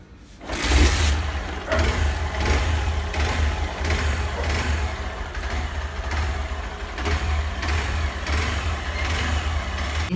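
A Hero Xpulse motorcycle engine catches after a short quiet start and settles into a close, loud idle, with repeated rises and dips as the throttle is blipped to rev it.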